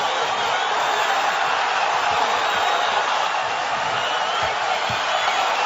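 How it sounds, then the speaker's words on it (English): Boxing crowd at the Marco Huck vs Ola Afolabi III fight, a steady loud wash of cheering and shouting from a large arena audience that holds constant without breaks. "Crowd trying to rouse the champion."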